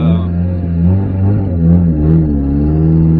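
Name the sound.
car engine and exhaust revving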